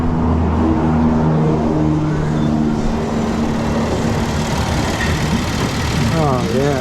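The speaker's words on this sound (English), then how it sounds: "the fan should be running with the air on" A Chevy Traverse with an overheating complaint runs with its air conditioning on and the cooling fan going, making a steady loud whir over a low idling engine hum, with voices talking over it.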